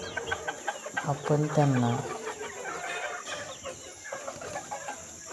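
Free-range village chickens on a farm cluck and squawk nearby, scattered bursts over a busy yard, while someone talks briefly over them.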